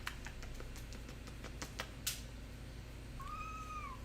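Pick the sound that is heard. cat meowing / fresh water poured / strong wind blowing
cat meowing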